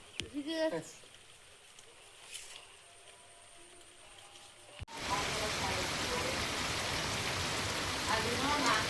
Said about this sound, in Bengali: আজকের দেখুন অনেক জোরেই বৃষ্টি শুরু হয়েছে